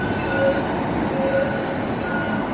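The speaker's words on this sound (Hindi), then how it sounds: "ट्राम जा रही है" A tram rolls along metal rails on a Helsinki street, its loud, steady rumble filling the moment with faint wheel squeals rising briefly above the din; no one speaks.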